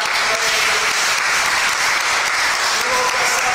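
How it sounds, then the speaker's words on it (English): A church congregation at a Mother's Day service claps hands in dense, sustained applause, loud and even throughout, with faint voices mixed in beneath it. "let's give God a great hand clap"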